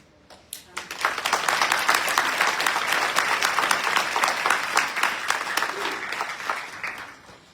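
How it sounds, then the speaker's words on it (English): A crowd applauds graduates at a spring college graduation ceremony. The clapping swells quickly, holds dense and steady for several seconds, then tapers off. "we applaud you for your efforts"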